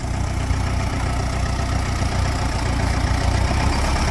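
Tractor engine idling steadily at harvest time, a continuous low rumble with a slight knocking texture that holds at an even, close level throughout, with no voices over it.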